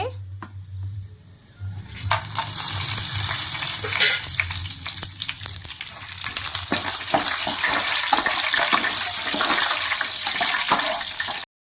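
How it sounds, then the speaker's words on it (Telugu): Whole spices sizzle and crackle in hot oil left over from deep frying, for an egg biryani: a quiet start, then a loud, steady hiss with scattered pops lasting several seconds, with no talk over it. "ఇప్పుడు ఇదే ఆయిల్లో మసాలా సామాన్లన్నీ వేసేసుకుందామండి."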